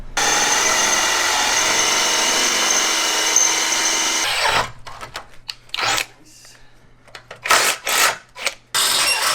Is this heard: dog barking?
no